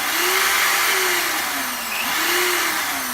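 A case trimmer cuts excess brass off a rifle cartridge case during reloading prep, giving a steady, loud motorized whir with a gently wavering pitch, close up and alone.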